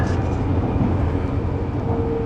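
Interior of a passenger train bound for Ocaña, Spain: a loud, continuous low rumble of wheels and carriage noise with a faint rising whine near the end, no voices.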